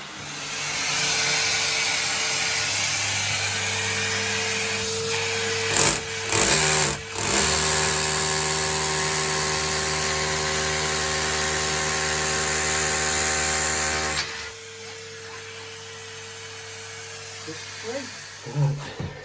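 A drill with a hoover-powered dust extraction attachment drills a hole, a loud sustained mechanical whir with brief stutters partway through, then the motor cuts and quieter handling noise follows.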